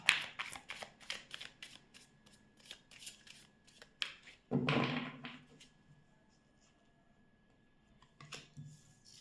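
Tarot cards are shuffled by hand in close, crisp riffling bursts, with a longer, louder shuffle midway and quieter taps between.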